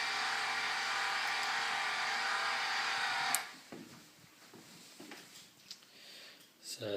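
A telescope's altitude drive motor whirs steadily for about three seconds, then cuts off abruptly, leaving only faint clicks and small mechanical noises nearby.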